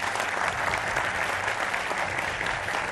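Studio audience at a Hindi political TV debate show breaks into steady, dense applause to welcome a guest, a continuous roar of many hands clapping with a faint voice underneath.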